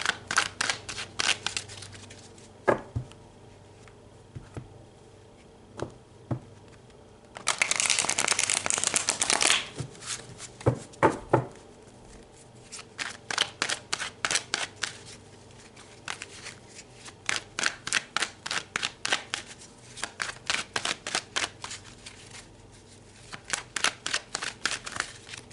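A deck of tarot cards being shuffled close by in quick riffling bursts and taps, with one sustained burst of dense riffling early on, no speech.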